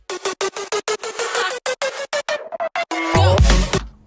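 Electronic track drop with the drums removed, leaving a choppy, gated main synth sound whose pitch is automated, pulsing in quick stuttered bursts before swelling into a denser, louder wash near the end; no voices.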